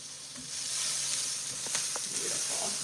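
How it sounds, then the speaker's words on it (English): Onions, peppers and zucchini sauté in a hot pan with a continuous soft sizzle and hiss, and a few light stirring scrapes sound close by. "Getting this nice, lovely saute on there."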